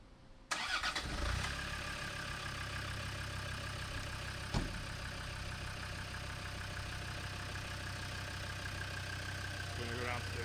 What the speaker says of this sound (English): Let's start it up for you,